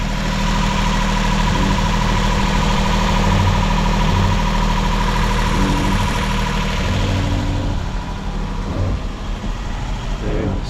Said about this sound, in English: we've got starboard side engine problems